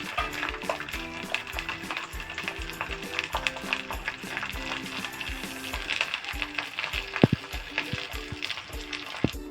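Garlic frying in hot oil for garlic bread, a steady close sizzle and crackle throughout, with clinks of a pan and utensil and some background music layered under it.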